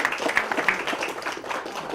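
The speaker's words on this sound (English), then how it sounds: "I think there should be a bigger round of applause" A workshop audience at an apartment neighborhood initiative award gives a round of applause, a dense, continuous patter of many hands clapping at moderate volume, with no one talking over it.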